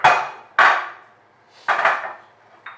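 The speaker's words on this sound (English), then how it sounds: "we're going to take this much of raw garlic, which is Indian garlic. I took a bulb and we're going to crush it" A bulb of raw Indian garlic is pounded to crush it, four sharp close thuds with short decays, spaced unevenly and heard alone.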